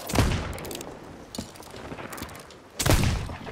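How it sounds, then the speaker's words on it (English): Gunfire in the pirate video game Sea of Thieves aimed at a powder keg barrel: a loud burst of shots at the start, a few scattered softer pops, then another heavy blast near the end. "I just shot this powder keg barrel fucking 4 times."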